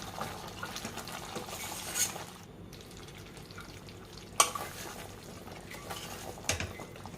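Sugar caramelising in a pan for shakarpara, stirred steadily: soft scraping and faint sizzling with a few sharper clinks of the spoon against the pan, quiet and close, no talking.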